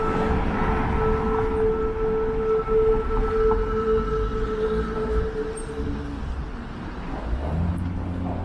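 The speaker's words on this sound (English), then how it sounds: "You hear the subway honking its horn from up here at street level" A long, steady subway train horn sounds from below, heard at street level near Yonge and College in Toronto, over a constant low rumble of traffic and urban noise.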